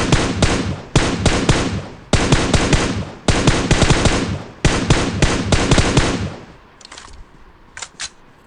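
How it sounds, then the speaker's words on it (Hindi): Rapid bursts of automatic gunfire in a video game, loud and close in several sustained volleys with brief gaps, then trailing into a few sparser, quieter shots. "यहाँ पे मैंने बॉट फायर की ताकि कोई बंदा आ जाए।"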